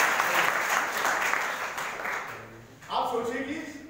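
A class of school children clapping for two kids, a steady burst of applause that fades, then picks up again briefly near the end.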